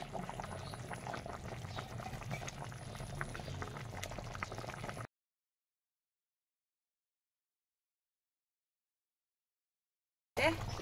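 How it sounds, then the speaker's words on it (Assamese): A pot of chicken curry thickened with rice flour bubbles and simmers steadily for a few seconds, then the sound cuts to silence before resuming briefly at the end. "এতিয়া চাওকচোন ধুনীয়াকৈ উতলি আছে পিঠাগুড়ি আৰু কুকুৰা মাংস"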